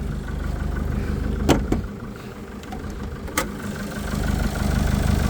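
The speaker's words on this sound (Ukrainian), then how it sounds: "Два і два двигун, чиста робота" Citroen Jumper van from 2020 with a 2.2 diesel engine idling, a steady close low rumble with a couple of brief clicks and knocks, no talk.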